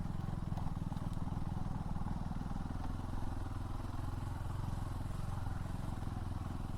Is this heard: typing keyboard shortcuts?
no